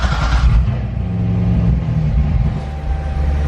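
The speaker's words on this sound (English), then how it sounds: "The car should start up just fine, so let's check it out" A rebuilt Chevrolet Corvette C6 Grand Sport with a six-speed manual starts and revs, a loud, close, deep rumbling engine settling into a steady idle, with no talk.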